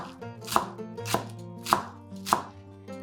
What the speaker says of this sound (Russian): Пучок зелени мелко нарезаем ножом